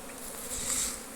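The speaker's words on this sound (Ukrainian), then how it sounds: "Оце чутно, що йде робота на пасіці." A soft, steady buzz of many honeybees at apiary hives, faint and continuous, with a slightly rising hum near the end.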